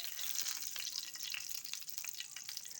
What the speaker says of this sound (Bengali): আমি ফোড়ন হিসাবে 2টা শুকনো লঙ্কা কেটে 4টা করে নিয়েছি। এবার এটা একটু নেড়ে চেড়ে ভেজে নিতে হবে।